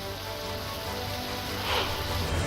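Steady heavy rain pours in Sawantwadi as a strong downpour returns after two dry days, a dense continuous hiss that swells slightly toward the end.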